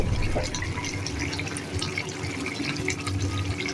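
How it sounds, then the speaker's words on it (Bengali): Pabda fish curry with green tomato and spring onion simmering at a boil in a pot, a steady low bubbling and watery burble running evenly throughout without pause. "এতে বলক এসে গেছে"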